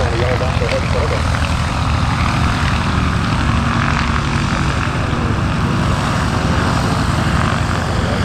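A propeller airplane drones loudly and steadily while landing on a runway at EAA AirVenture Oshkosh 2018, a constant engine roar close by, with radio and voice chatter mixed underneath throughout.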